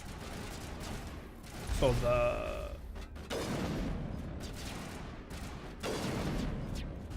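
Sniper rifle fire in the Mass Effect video game: one loud, sharp shot with a metallic ring and mechanical clatter, followed by dull impacts against steady game background noise, with a voice talking over it.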